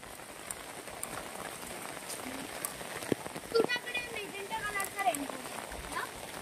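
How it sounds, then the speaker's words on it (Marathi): Rain patters steadily on surfaces outdoors in the Konkan countryside, a soft constant hiss with scattered drops, while faint voices speak in the background. "पाऊस"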